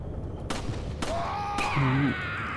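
Gunfire in the Resident Evil 4 video game, three sharp shots spaced about half a second apart, followed by a creature's wailing cry.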